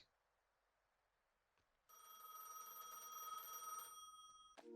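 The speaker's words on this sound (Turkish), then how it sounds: "İstasyon önündeki kabinde çalan telefonu cevaplayın." A telephone rings in a roadside booth outside a gas station in Gas Station Simulator, one continuous electronic ring lasting about two seconds, clear and fairly loud against a quiet background.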